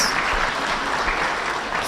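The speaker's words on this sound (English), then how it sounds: "give him a round of applause, please?" An audience at a parliamentary gathering claps in a brief, dense burst of applause heard at steady moderate loudness.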